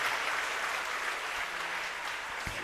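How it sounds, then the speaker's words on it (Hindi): Audience applause at a Jain sermon in Shirpur, heard as a steady, dense wash of clapping from a crowd, moderately loud and continuous throughout with no voice over it. "इसलिए जोरदार तालियों का अपने आवाज़ दे दिया"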